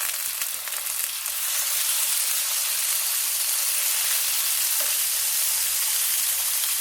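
Potatoes hit a hot pan of leeks and sizzle loudly, a dense, steady bright hiss of frying that holds throughout, with faint scrapes of stirring underneath.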